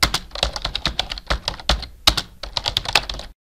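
Quick, irregular keystrokes on a computer keyboard, close and clear, with short pauses between bursts of typing and no speech.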